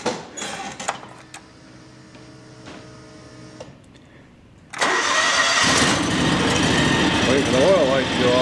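A John Deere X724 lawn tractor engine starts up after a few seconds of quieter clicks and whirring. It then settles into a loud, steady running roar, with someone talking nearby.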